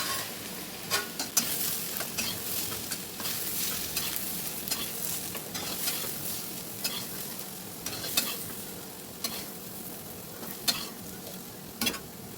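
Potatoes frying in a pan and stirred while cooking palachatu ambula besara, a steady close sizzle with scattered scraping clicks of the spoon.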